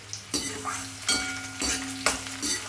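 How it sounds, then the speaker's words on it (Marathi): Peanuts, onion, tomato, green chili, curry leaves and cumin sizzle in hot oil in a pan as a quiet, steady frying hiss, broken by several rhythmic stirring scrapes at roughly half-second intervals. "हे सगळं साहित्य टाकून अशा शिळ्या पदार्थाला फोडणी घालायची"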